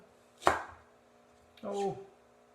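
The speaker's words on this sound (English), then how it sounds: "I take these and just lay them down here and I cut them" Serrated knife cutting pickled turnips on a cutting board, two distinct slicing crunches spaced about a second apart, close and clear.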